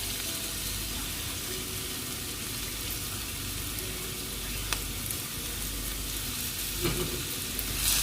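Chopped carrot and ginger sauté in coconut oil over a medium flame, giving a steady, moderate sizzle with an occasional faint scrape of stirring and a few small clinks.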